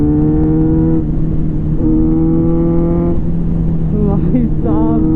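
Kawasaki Z900 motorcycle running at speed on a highway, a loud steady engine drone with strong harmonic tones, gear shifts and slight pitch swings near the end, with continuous wind rush.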